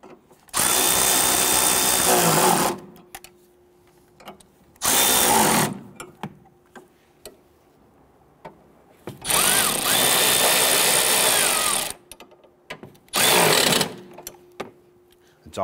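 Engine torque strut mount bolts on a 2011-2017 Nissan Quest 3.5L V6 snugged down with a power tool: four loud, sustained whirring bursts of a few seconds each, separated by quiet pauses.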